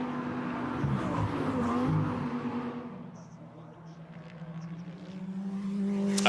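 DTM Trophy race cars out on the Hockenheimring circuit during qualifying, engines droning loud and continuous, one swelling past then fading and another building again, with a commentator's voice faintly under the engines.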